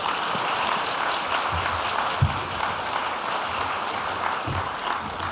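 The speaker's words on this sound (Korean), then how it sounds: "우리 다시 한번 감사의 마음을 담아 박수로 표현하겠습니다" A church congregation applauds during a Sunday evening service, a steady wash of clapping from many hands that fills the room, with a few louder claps standing out.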